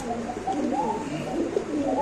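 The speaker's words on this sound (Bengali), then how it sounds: "নলের ডাকটা দেখাই" A male Lahori pigeon coos in low, rolling calls over a busy background murmur, moderately loud and near.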